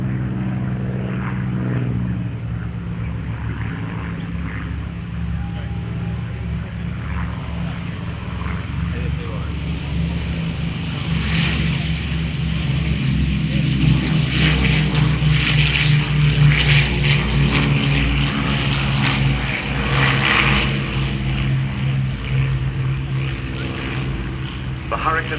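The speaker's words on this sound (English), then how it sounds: "The Hurricane 2C, the Spitfire Mark 2A and the Lancaster Mark 1 of the Battle of Britain Memorial Flight take off in their graceful and sonorous fashion" A Hurricane 2C, Spitfire Mark 2A and Lancaster Mark 1 of the Battle of Britain Memorial Flight take off at the Duxford Flying Legends airshow, their propeller engines droning steadily and swelling louder, with a voice commentating over them.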